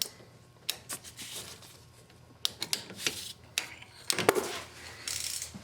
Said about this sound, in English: Just tighten that bolt until it begins to bind.